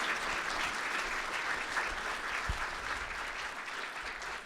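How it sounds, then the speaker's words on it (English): A conference audience at a talk on metering low-temperature thermal energy gives a sustained round of applause after a presentation, with continuous, even clapping filling the room and a faint thump partway through. "Can I get a round of applause for a great presentation?"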